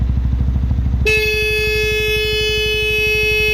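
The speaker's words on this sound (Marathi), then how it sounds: "त्याच्यापेक्षा मोठा हॉर्नचा आवाज आहे का आता" A loud, sustained vehicle horn blares in after a second and holds steadily to the end, over a low, pulsing engine rumble.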